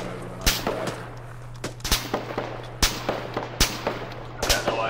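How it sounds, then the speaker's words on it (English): Gunfire in the military video game ArmA 3 sounds as several separate sharp cracks at irregular intervals over a steady low hum, with no talking. "Taking fire from an unknown location"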